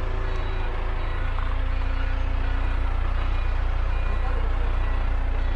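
An excavator's hydraulic pump runs steadily on a road-grading job, a smooth continuous low engine drone with a constant mechanical hum that stays even throughout.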